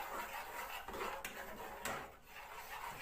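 Spoon scraping and clinking in a pot while Jamaican cornmeal porridge is stirred, a steady close rubbing scrape with a couple of sharper knocks against the side.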